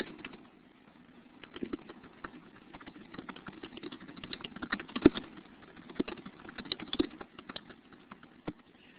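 Typing on a computer keyboard, with a steady run of soft, irregular key clicks that carry on throughout at a moderate, fairly close level, occasionally punctuated by a sharper tap.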